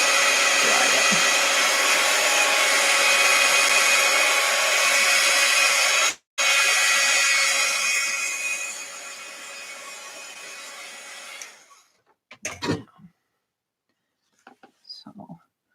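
A hair dryer blows steadily and loudly on wet ink on a drawing for about twelve seconds, with a brief cutout midway, then shuts off and leaves faint handling noises.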